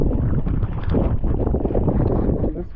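Strong wind buffets the microphone on a kayaking trip along the west coast of Ireland, between Moyard and Leenaun, a loud, steady roaring rumble with gusty swells throughout.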